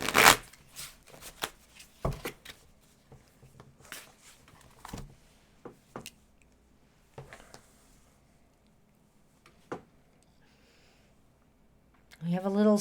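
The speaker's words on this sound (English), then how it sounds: "Go ahead and shuffle." Tarot cards are shuffled in quick irregular riffles and taps, close by, with a short burst of voice at the end.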